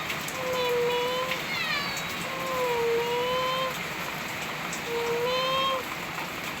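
A cat meows three times, long drawn-out cries, close by during heavy rain that hisses steadily on surfaces all around.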